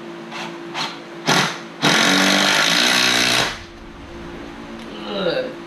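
A power drill whirs in a few short bursts, then runs one longer loud burst while driving a screw into wooden door framing; close and alone, with a brief voice toward the end.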